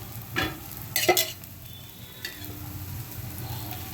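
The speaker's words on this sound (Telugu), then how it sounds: "ఇప్పుడు దీంట్లో కొద్దిగా హోల్ చేసి ఇంకా కొంచెం ఆయిల్ పోసుకుందాం" Oil sizzles on a moong dal dosa in a pan, a steady close crackle punctuated by a few louder bursts early on as more oil hits the hot surface.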